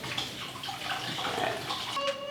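Hot tap water runs over a stuck jar lid in a kitchen sink, a steady close splashing stream that lasts the whole short moment.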